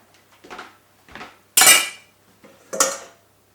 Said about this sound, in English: There's a pile of dishes here.